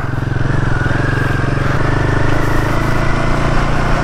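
A Royal Enfield Himalayan 450 motorcycle rides an off-road dirt trail with loose soil, its engine droning steadily and loudly up close with constant rumble and clatter throughout.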